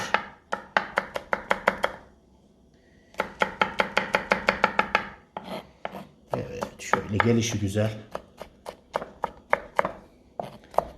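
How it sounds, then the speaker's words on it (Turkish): A knife chops garlic on a cutting board in quick, even runs of sharp taps, close and crisp, broken by short pauses and a brief scraping; a voice speaks briefly partway through. "Sarımsaklarımızı doğradık."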